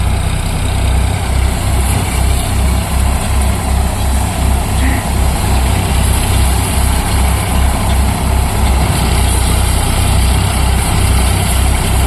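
An Eicher 551 tractor drives a wheat thresher in cloudy weather, producing a loud, continuous low engine drone with steady mechanical rumble that holds unchanged for the full twelve seconds.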